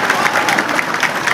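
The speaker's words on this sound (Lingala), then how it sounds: "Vos applaudissements, s'il vous plaît." An audience at a Kimbanguist church ceremony breaks into applause, a dense, steady patter of many hands clapping at moderate loudness throughout.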